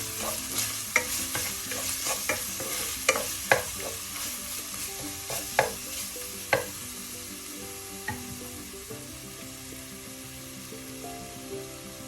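Garlic stirred in hot oil for a white tuna fish curry, with a continuous sizzle under sharp, irregular scrapes and taps of a utensil against the pan.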